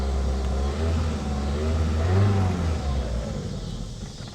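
A 1985 Honda Accord with 62K miles, revived on fresh fuel after sitting with stale gas, runs rough with a steady low engine drone that swells briefly as it revs, then settles unevenly, close by.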